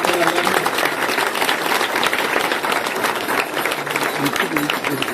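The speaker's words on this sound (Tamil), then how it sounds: "பலத்த கரகோஷம்" Loud, sustained applause from a large crowd at a Swami Ayyappan devotional gathering in Hosur, with dense clapping mixed with crowd noise throughout.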